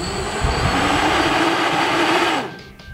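Quadcopter motors spin 3D printed propellers at full throttle, a loud, close, steady high-pitched whine that holds for a couple of seconds and then cuts off abruptly.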